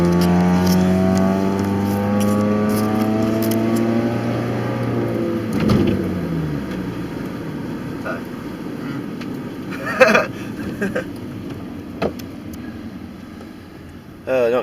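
Loud, rough engine of a Honda Civic running without a muffler, droning steadily and shifting pitch, with voices talking over it and a couple of sharp knocks near the end.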